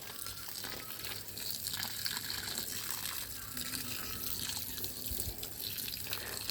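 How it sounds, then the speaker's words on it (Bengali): Water pours steadily from a hose or can onto citrus plants growing in a half drum, a soft continuous splashing and gushing that stays fairly faint and unbroken throughout. "সারগুলো ঠিকঠাকভাবে গাছের গোড়ায় শিকড়ে পৌঁছে যাওয়ার জন্য জল দেওয়া হচ্ছে।"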